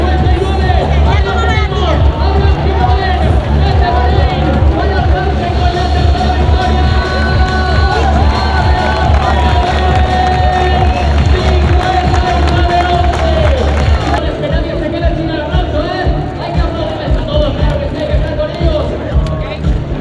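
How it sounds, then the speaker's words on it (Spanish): Spectators at the Valencia Half Marathon finish cheer and clap for arriving runners, a continuous loud crowd roar with babble and an announcer's amplified voice over it. "Vamos a aplaudirles, vamos a aplaudirles"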